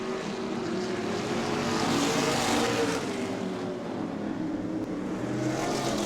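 Race cars at Orlando Speed World roar past in a dense, continuous wall of engine noise that swells and fades slightly as the pack circles the track.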